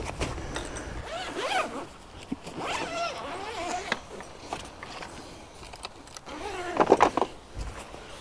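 The zipper on a black carry bag for campsite fencing is drawn open in several separate pulls, each a close, raspy zip. The longest and loudest pull comes near the end, with handling noise between the pulls.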